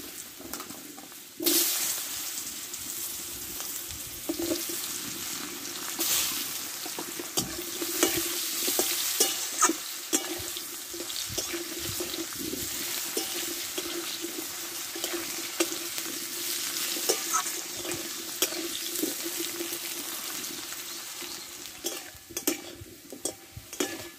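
Potatoes frying in oil left in a pan after fish, a steady broadband sizzle with occasional stirring scrapes and clatters throughout, close and continuous with no talking.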